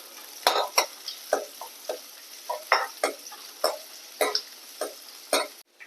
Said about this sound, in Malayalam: വെളിച്ചെണ്ണ ഒഴിച്ചു നമ്മൾ ഒരു സവോള ഇട്ട് കൊടുക്കുന്നു ചെറിയ സവോള